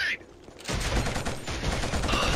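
Rapid sustained gunfire in the shooter video game Killzone, a loud continuous burst of rattling shots starting after a short quieter moment, with a voice speaking faintly underneath.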